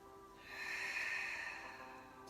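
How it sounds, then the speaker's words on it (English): A slow, deep breath drawn in during a yoga balance session, soft and close with a gentle airy rise and fall, quiet and alone. "Just breathing nice and deeply here."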